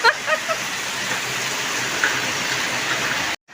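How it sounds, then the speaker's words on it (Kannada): A heavy downpour hisses in a dense, continuous roar, loud and close, before cutting off abruptly at the end. "ಅಷ್ಟು ಜೋರು ಮಳೆ ಬಂದ್ಬಿಡ್ತು ಒಂದೇ ಸಾರಿ"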